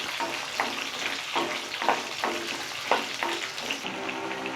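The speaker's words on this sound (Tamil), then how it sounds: "சேர்த்துட்டு இதை ஒரு 2 நிமிஷம் போல் வதக்குங்க." Shallots sizzling and frying in a pan with oil, with garlic cloves soon to join them, a steady close hiss broken by rhythmic stirring scrapes about every half second, with no talk.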